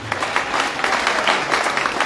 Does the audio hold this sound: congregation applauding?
yes